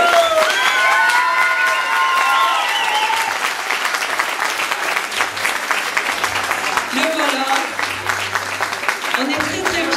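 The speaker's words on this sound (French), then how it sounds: "on l'applaudit bien fort" An audience at the close of a Christmas storytelling show applauds loudly and steadily for the full stretch, a dense wash of clapping with a few cheers, while someone speaks over it through a microphone.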